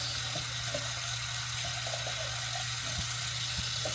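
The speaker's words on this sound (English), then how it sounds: "hot water, like steam, will come out." Steady hiss of a hotel shower tap running hot water, a constant close spray with faint knocks and a low hum beneath, no talking.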